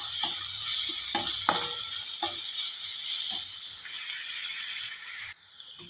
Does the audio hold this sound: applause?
no